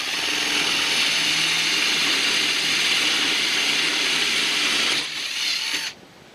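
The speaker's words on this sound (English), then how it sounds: "allow the drill to find its center, and when it touches the fiberglass, speed it up. It goes right through, nice and clean." Power drill boring a hole through a fiberglass rear door, a steady loud whine that runs continuously, then drops in pitch and cuts off as the bit breaks through near the end.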